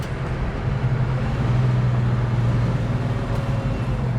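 Engine of a 1969 Chevrolet Camaro drones steadily from inside the car as it downshifts, a low continuous rumble with a brief pitch change, set against road and traffic noise.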